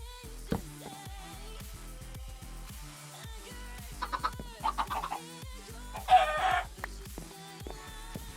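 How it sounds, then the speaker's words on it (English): A chicken clucks and squawks in modded Minecraft Skyblock, with short bursts of game-style fowl calls over a steady musical background and no speech. "Get out of there, chicken!"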